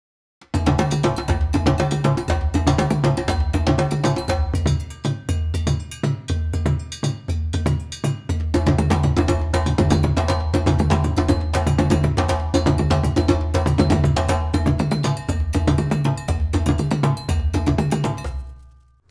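A dense, driving West African djembe ensemble plays steady interlocking rhythms with deep bass tones and sharp slaps, continuous and loud throughout, no voices.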